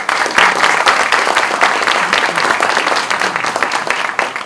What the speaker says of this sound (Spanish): a quien le damos también un fuerte aplauso